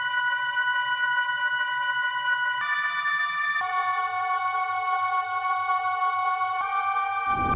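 Synth preset Xmod Colin from the Xenology plugin in FL Studio plays sustained, bright harmonic chords that shift pitch in a few steps, over a soft pulsing low tone, steady and fairly loud with no voices.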